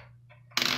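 A single coin drops and rings with a bright metallic clink after a moment of quiet.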